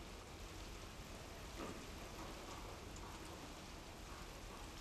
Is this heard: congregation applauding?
no